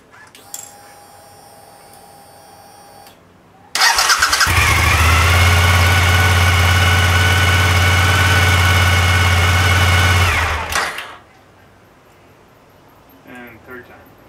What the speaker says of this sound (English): this is a cold start on a rather warm day